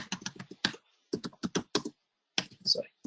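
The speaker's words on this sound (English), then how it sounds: "you can type your code here" Code being typed on a computer keyboard produces bursts of quick, close key clicks separated by short pauses, crisp and moderately loud with no talk over them.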